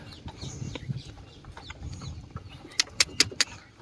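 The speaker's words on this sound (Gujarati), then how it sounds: "અત્યારમાં પક્ષીનો અવાજ બહુ મજા આવે" Birds call outdoors on a farm, a mix of soft pigeon clucking and cooing near the start followed by a few sharp, bright chirps in quick succession.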